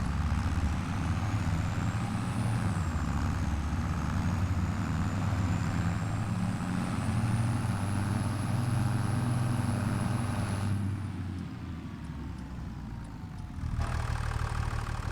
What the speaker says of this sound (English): Nice tractor. It's got a good sound to it